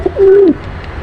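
A single soft pigeon coo, a low smooth hum lasting about a third of a second, comes from close by among a flock that includes young pigeons, with faint background noise around it.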